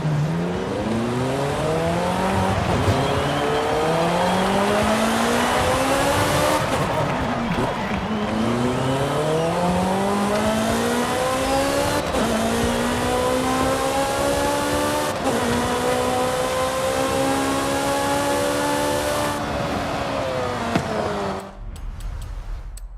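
Ferrari in the racing game Forza Horizon 5, its engine loud and close, revving up through repeated rising gear sweeps with shifts between, tire noise underneath, ending abruptly.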